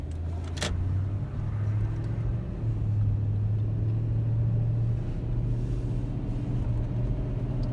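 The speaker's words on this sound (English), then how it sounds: "now it sounds like an actual, like, regular working car" Toyota Tundra with a newly replaced drive belt cruising on a street, a steady low engine and road rumble holding throughout with no clacking from the idler pulley.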